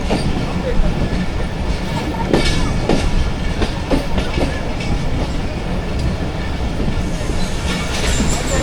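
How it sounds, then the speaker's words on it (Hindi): The Rehman Baba Express rumbles steadily as it comes to a stop at Shahdadpur station, with loud, continuous wheel and carriage noise and faint clicks from the rails throughout. "और ट्रेन ने स्टॉप कर दिया जी शाहदादपुर में"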